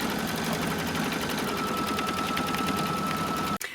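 An embroidery machine stitching an applique tack-down on a quilt block, a fast, even mechanical chatter running steadily and close, then cutting off abruptly near the end.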